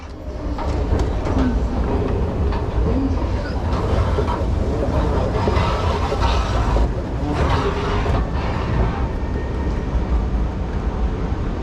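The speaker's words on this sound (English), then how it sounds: "this NS International Intercity Direct train that is also bound for Brussels pulls into the platform" An NS International Intercity Direct train rumbles steadily into a station platform, with a continuous low roar, rattling and faint squeals, loud and close throughout.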